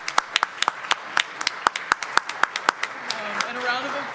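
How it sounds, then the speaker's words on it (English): Audience applause for the panelists at a labor law panel, a scattering of sharp individual claps that thins out and fades over about four seconds. "Can we get a round of applause"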